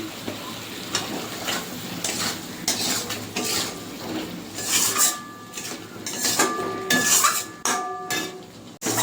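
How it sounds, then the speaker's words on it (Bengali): Eggplant is stir-fried in oily spice paste with Kashmiri chili powder in a pan, a soft sizzle broken by repeated spatula scrapes and metallic clinks against the pan, close and fairly loud, with no talking. "মশলা ভালোভাবে বেগুনের সঙ্গে কষানো হয়ে গেছে"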